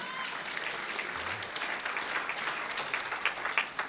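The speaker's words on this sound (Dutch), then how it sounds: "See, most of you clap and you believe in that." Conference audience at a Christian gathering breaks into applause, a dense patter of many hands clapping at moderate distance, steady throughout with sharper individual claps toward the end.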